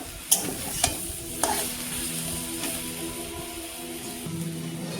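Cauliflower stems, potato and pumpkin fry in a pan with a soft steady sizzle, broken by a few sharp clinks and scrapes of stirring near the start.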